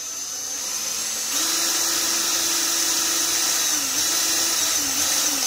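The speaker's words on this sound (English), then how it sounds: "I don't want to bust a drill bit or go overboard and drill into something behind it" Power drill whirring as it drives through a hole during a jukebox repair, a steady close motor whine that rises in pitch, then dips briefly a couple of times under load.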